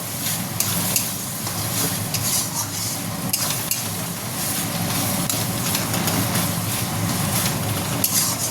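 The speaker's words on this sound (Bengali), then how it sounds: "এটাকে এবার ভালো করে আমি কষাবো।" Mutton pieces frying in oil for a light spiced Bengali mutton curry, a loud continuous sizzle with constant stirring and scraping in the pan, close and unbroken, no talk.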